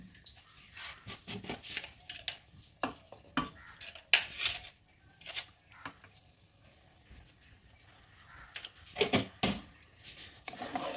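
Soaked Gobindobhog rice and prawns are stirred in a pot for prawn pulao: irregular scraping strokes and clinks of a spoon against the pot, fairly quiet and close, with faint sizzling underneath.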